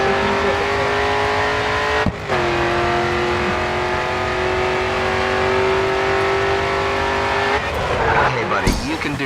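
A race car engine in GRID 2 screams at full throttle with a steady, high, sustained whine. A brief dip is followed by renewed revving and tire squeal near the end, and a voice speaks over it.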